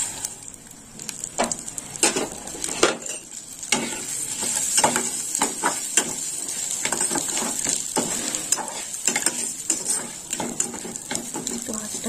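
Moong dal frying in ghee in a pan, a continuous close sizzle broken by frequent scraping knocks as a spoon stirs the lentils steadily for several seconds.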